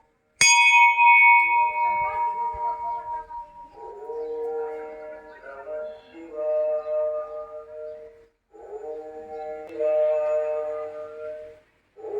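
Bells at a Mahadev temple ring out, a sharp strike at the start followed by sustained, overlapping metallic tones that swell and fade in several waves, moderately loud with no speech.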